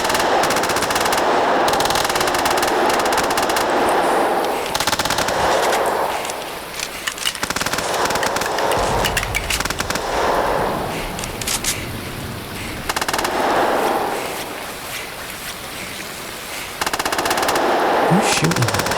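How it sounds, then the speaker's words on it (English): Sustained rapid automatic gunfire in the video game Zombie Rampage, loud and dense throughout, coming through walls in waves that swell and ease, with an occasional voice faintly underneath. "those crackheads were shooting at me through the walls"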